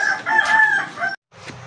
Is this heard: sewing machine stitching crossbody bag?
no